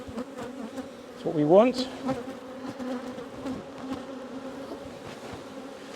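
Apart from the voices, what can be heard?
honeybees buzzing around open hive frames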